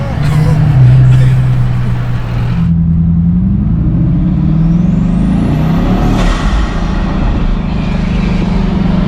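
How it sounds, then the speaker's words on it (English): Bugatti Chiron quad-turbo W16 engine roars loudly and steadily from inside the car, with a rising whistle of turbo compressor surge sweeping up and then cutting off partway through. "There's no turbo car that makes noises like that."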